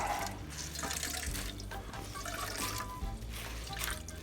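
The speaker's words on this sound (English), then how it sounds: "We'll squeeze all that water out." Water wrung from grated potatoes wrapped in a kitchen towel trickles and splashes steadily into a bowl below, a soft continuous dribble heard close up without talk.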